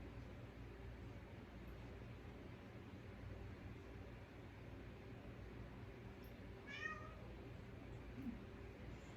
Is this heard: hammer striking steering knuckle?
no